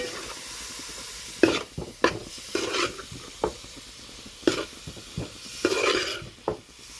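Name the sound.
stirring beef liver pepper fry in pan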